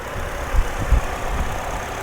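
A Chevrolet Ecotec engine idles steadily, up close and moderately loud, with a low, even hum and a few soft pulses in the rumble and no voices.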